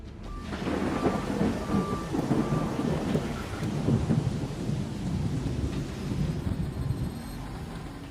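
A thunderstorm with a heavy downpour during flooding, steady loud rain roaring throughout with deep rumbling thunder underneath, continuous and close.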